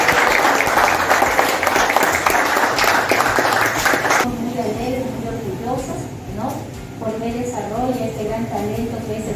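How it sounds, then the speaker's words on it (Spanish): At a school recognition ceremony in Cartavio, an audience bursts into strong, continuous clapping, then it fades and a voice speaks over scattered crowd noise. "vamos primeramente a ofrecerle por parte de todos los presentes un fuerte aplauso"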